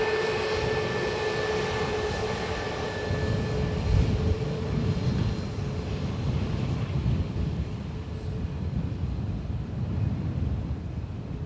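A JetBlue jet airliner landing on runway 28 left at Dublin Airport gives a continuous low engine roar with a steady whining tone above it, sustained and moderately loud, mixed with wind buffeting on the microphone.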